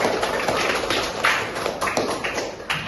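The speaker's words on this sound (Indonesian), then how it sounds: "Berikan aplaus untuk kelompok" A small group gives applause to presenting classmates, a light, scattered patter of claps lasting a few seconds, fairly close and thin rather than a full crowd.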